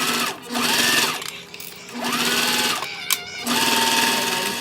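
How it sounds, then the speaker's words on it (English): A sewing machine stitches fabric for a bag in three loud bursts of rapid needle whirring, each speeding up and slowing down, with brief pauses and a small click between them. "we're gonna sew right along here all the way down at 1/4 of an inch."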